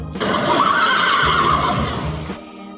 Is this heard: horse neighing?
yes